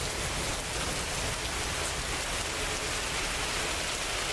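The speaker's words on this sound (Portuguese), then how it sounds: "Você tem que pegar a água que desce da calha." Rainwater streams steadily down from a roof gutter, a dense, even wash of splashing water that continues without pause, with no talking.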